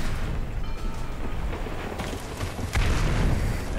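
Heavy cannon fire from tank turrets in War Thunder, a dense rumbling of low booms that swells into a louder blast near the end, with no talking.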